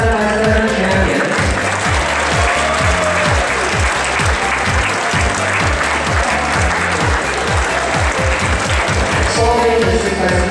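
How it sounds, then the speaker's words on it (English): A large audience at a Rubik's Cube world championship finals applauds steadily and loudly for the 7x7x7 cube champions, a dense wash of clapping sustained throughout with no voices standing out. "Let's have a round of applause for all our 7x7x7 champions."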